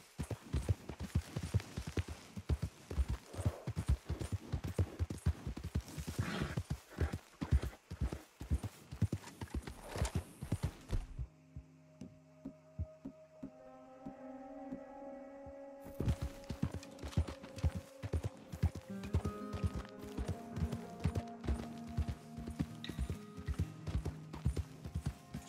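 Horse hooves clip-clopping on a road while riding in Red Dead Redemption 2, a brisk rhythmic gallop that drops out briefly for a soft musical passage, then returns alongside the music with occasional snorts.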